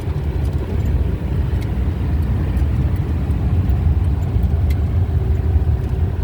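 A car with a manual transmission driving along a road on a road trip to Bocaue, heard from inside as a steady low engine drone and road rumble throughout.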